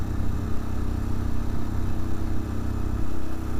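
Motorcycle struggling to pull two riders uphill on a rural Nepali road, a steady loud mid-pitched engine drone with slight fluctuations and no talking.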